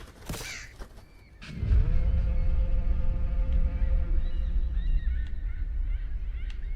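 A bird lets out a couple of sharp, goose-like honks at the start, then a loud, steady low rumble swells in and holds beneath faint higher tones.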